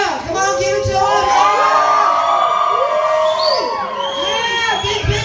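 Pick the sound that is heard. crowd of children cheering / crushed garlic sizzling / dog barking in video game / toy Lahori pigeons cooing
crowd of children cheering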